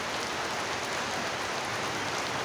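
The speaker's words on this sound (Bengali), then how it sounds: "বৃষ্টি, এমন বৃষ্টি হচ্ছে" Heavy rain pours down during a cyclone, a dense, steady hiss of drops on surfaces that stays loud and unbroken throughout, with no voices.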